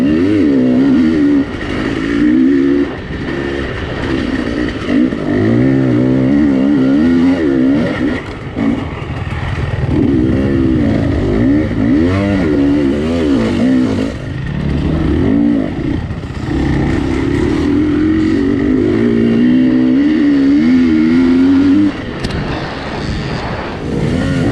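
Dirt bikes racing around a trail course at a nine-hour team endurance race in Billingsley, Alabama, engines repeatedly revving and whining past close by, several machines overlapping in loud rising and falling waves.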